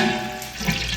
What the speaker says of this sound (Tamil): ஒரு 1/2 லிட்டர் எண்ணெய் ஊற்றிக்கலாம்.